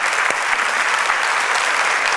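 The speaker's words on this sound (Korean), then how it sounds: "이분들을 위해서 한번 큰 박수 보내드리면 좋겠습니다" A church congregation gives a big round of applause for the worship team and the PPT, video, sound and lighting volunteers: dense, steady clapping from a large group, filling the whole stretch at an even level.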